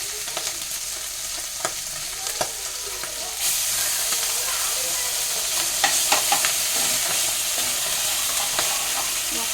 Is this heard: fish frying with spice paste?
yes